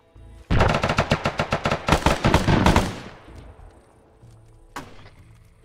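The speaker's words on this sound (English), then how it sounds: "Get someone on the machine gun." Loud, close machine gun fire in a military shooter video game, a rapid run of about two seconds of shots that breaks off, followed by quieter ambient noise and a single distant impact.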